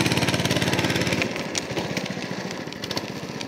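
Small engine of a homemade drift trike revving hard with a steady buzzing drone, then easing off into a rougher, uneven putter, close and loud.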